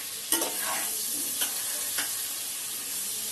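Chicken for a home-style chicken rice dish cooks slowly in a pan over a low flame, giving a steady soft sizzle throughout, broken by a few sharp spoon scrapes and stirs near the start.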